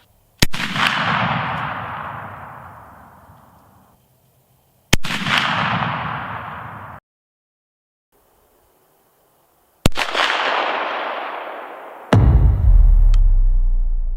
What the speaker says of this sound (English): It's time to see if we can shoot from this range with this fancy muzzleloader.